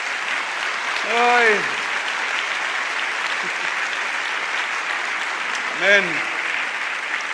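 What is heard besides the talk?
church congregation applauding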